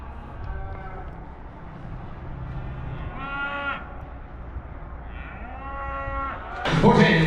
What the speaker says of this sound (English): There, 8 calves, 2 cows on the way to the sales barn.